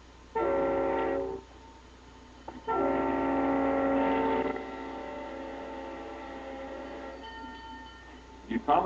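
A freight train with an Alco RS-3 locomotive sounds its horn in two long, loud multi-tone blasts, then rumbles on with fainter engine noise and a brief later toot, heard at a moderate distance under narration.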